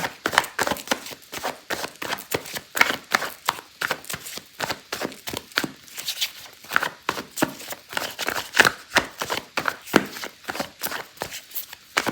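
Tarot cards shuffled and riffled in rapid, steady bursts, close and crisp, continuing for several seconds with no voice over them.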